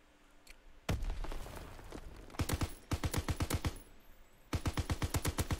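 Video game gunfire crackles in repeated bursts: a first volley of rapid shots, then several loud, closely spaced strings of automatic fire with short pauses between them.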